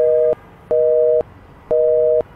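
Telephone busy tone after a hung-up call: three loud, evenly spaced electronic beeps, each about half a second long with short gaps between, heard alone.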